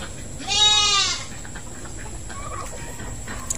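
A brooding hen sitting on turkey eggs gives one loud, drawn-out vocal call up close, followed by softer scattered clucks over a steady hum.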